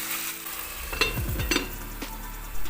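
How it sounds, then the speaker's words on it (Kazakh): Meat frying and braising in a pan gives a steady sizzle with some stirring and scraping clatter, close and moderately loud, with no voices. "Етімізді жақсылап қуырып, суы шыққанша оны бұқтырып, жақсылап пісіреміз"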